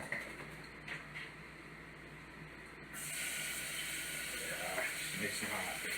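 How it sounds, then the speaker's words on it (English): Onions sizzling in a tablespoon of hot oil in a pan, a steady hiss that jumps louder partway through as the onions hit the oil, with someone talking over it. "We're going to put in a tablespoon of oil. That going in there. also going to throw our onions in."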